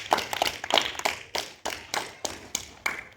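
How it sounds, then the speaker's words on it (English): Sparse applause at a school debate for a guest speaker, a few distinct sharp claps in a slow, fairly even rhythm, sounding close and isolated rather than a full crowd. "A round of applause for our esteemed guest"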